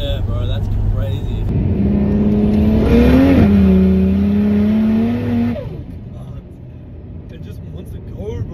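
A Barra-engined ute accelerates hard, its engine note climbing loudly through a gear change before easing off as the revs drop, heard from inside the cabin while people talk.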